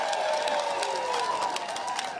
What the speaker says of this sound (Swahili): Tũmahũrĩre makofi.